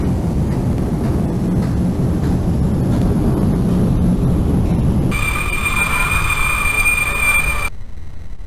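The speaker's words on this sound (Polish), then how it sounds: "pociąg pospieszy z Siedlec, wjeżdża na tor przy peronie trzeci." A fast passenger train from Siedlce pulling into a station track beside platform three, a loud continuous rumble of wheels that gives way to a high, steady squeal before cutting off abruptly.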